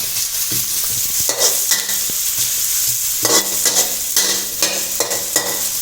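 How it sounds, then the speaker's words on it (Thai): Stir-frying in a pan over medium heat while cooking Chinese sausage fried rice, with steady close sizzling broken by repeated scraping strokes of a spatula; no talking. "ผัดให้พอสลดนะฮะ ใช้ไฟกลางครับ"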